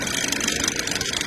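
A stationary tractor idles during early-season hoeing, a steady loud mechanical drone with constant rumble and no change in pace across the short stretch.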